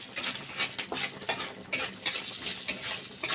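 Cardamom pods crackle in hot oil in a pan while prawns are being prepared, a close sizzle broken by irregular pops and light stirring clatter.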